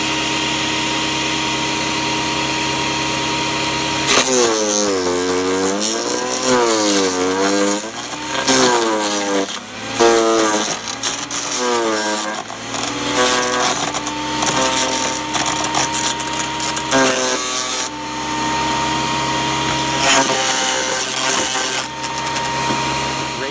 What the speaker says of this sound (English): utilizing that mulch or wood chipper or something similar is a great thing to get free mulch in your backyard